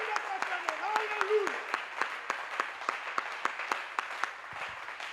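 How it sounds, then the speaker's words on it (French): A church congregation bursts into sustained applause for Jesus, sharp claps layered over cheering voices, continuing steadily throughout. "est-ce qu'on peut acclamer pour Jésus?"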